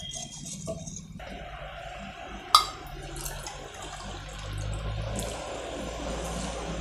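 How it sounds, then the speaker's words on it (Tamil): Water pours steadily into a bowl of boondi batter, a continuous liquid splashing with a brief sharp clink partway through, close by and without talk. "ஒரு கப் கிட்ட தண்ணி விட்டுருக்கேன்."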